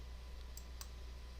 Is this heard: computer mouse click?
yes